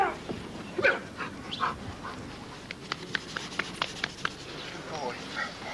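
Dog during guard dog training with a pit bull terrier, heard in short sharp bursts and whimpers among voices, with a series of quick clicks midway and people talking throughout.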